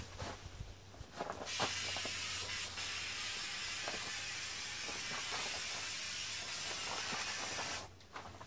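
Spray glue hisses steadily from an adjustable nozzle, a continuous close, loud spray lasting several seconds before cutting off, with a few small clicks at the start.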